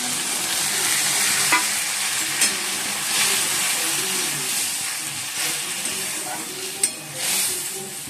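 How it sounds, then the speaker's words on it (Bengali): Pointed gourd, already fried until reddish, sizzles in a pan as a paste of poppy seed and mustard goes in. Steady close frying hiss runs throughout, with a few sharp clinks and scrapes from stirring. "পটলগুলো একটু ভেজে নিলাম লাল লাল করে। এবার দিয়ে দিচ্ছি পোস্ত আর সর্ষে বাটা।"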